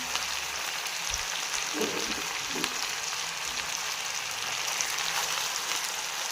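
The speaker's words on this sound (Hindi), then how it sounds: "फुल फ्राई हो चुका है हमारा चिकन।" Chicken fries in a kadai with a steady, close sizzling hiss that runs the whole time, broken by a few soft thumps and clunks from the pan.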